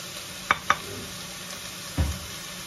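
Sliced onion with green chillies and garlic sautés in a pan for a chicken curry, a soft steady sizzle broken by two sharp clicks of a utensil and a duller knock near the end, with no talk.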